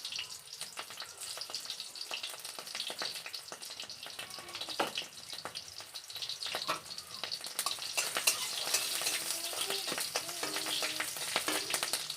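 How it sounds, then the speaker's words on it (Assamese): Dal frying in hot oil, a crackling, spitting sizzle with scattered pops that grows louder and denser in the second half. "সেয়া মই দালি তেলত দিছোঁ।"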